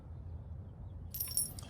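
Three cross keys for a steering wheel lock jangle briefly and brightly near the end, after a low, quiet background hum.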